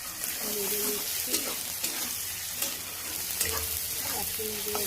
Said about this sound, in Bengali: হলুদ গুঁড়ো, দিয়ে সবগুলো মশলাগুলোকে ভালো করে নেড়ে নিচ্ছি।